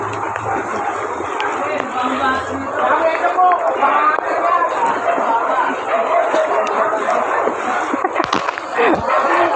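Dogs bark and yip repeatedly amid a busy crowd during typhoon flooding, with people talking over the commotion close by.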